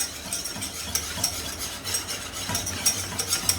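A roux of flour and butter cooking in a pan, a soft continuous sizzle with repeated light scraping and stirring strokes close by, and no talking.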